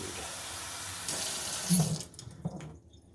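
Tap water runs steadily into the tank of a Maircle F1 wet mop, then cuts off, with a few gurgles and drips as the flow stops; close and moderately loud.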